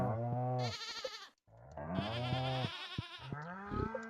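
Farm animals in the Stardew Valley video game call out in repeated loud, wavering bleats, several overlapping cries close by with short gaps between them.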